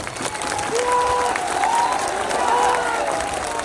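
A large crowd at an open-field political rally in Damdaha, Bihar breaks into sustained clapping, with drawn-out shouts and cheering voices rising over the applause throughout.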